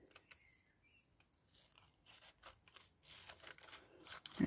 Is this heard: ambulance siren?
no